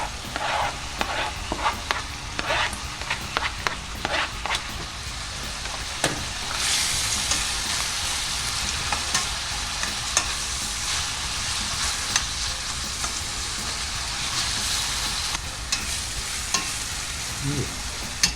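Minced meat and chopped onion sizzle steadily in a hot pan, a continuous close frying hiss with scattered scraping stirs throughout.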